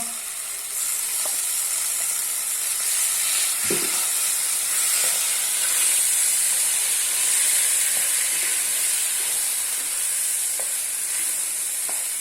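Cardamom and pumpkin pieces go into a hot pan for pumpkin halwa, setting off a loud, steady sizzle with a few scrapes and clinks of a spoon stirring throughout.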